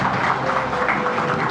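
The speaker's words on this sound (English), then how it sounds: "Huge round of applause, please, for Mr. Tata." An audience applauds for Mr. Tata at a business leadership awards ceremony, a brief, dense wash of clapping filling the hall.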